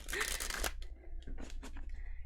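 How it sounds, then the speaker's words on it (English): Tarot cards are shuffled by hand, a close dense riffling burst followed by a few shorter papery slides and taps, with no speech. "If I can shuffle, that would be helpful."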